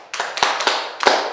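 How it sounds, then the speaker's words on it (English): A few brief hand claps from students in a physics class, four or five quick sharp slaps over little more than a second, close and loud with no voices. "Please clap for me."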